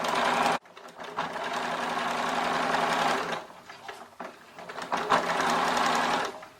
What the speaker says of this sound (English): And we sew all around.